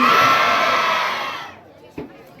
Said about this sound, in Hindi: नंदलाल जी के लिए भी जोरदार तालियां एक बार बजाइए